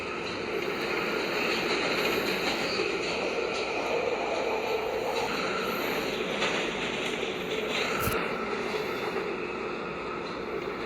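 Subway train running in South Korea: a steady rumble and roar of the moving carriage with faint clatter and a brief sharp click, heard from inside at constant moderate level.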